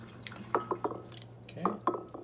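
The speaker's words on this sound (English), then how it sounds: "Just put some water in there." Water poured into a gel ice pack: a series of close, wet drips and small splashes in uneven bursts, fairly quiet, with no one talking.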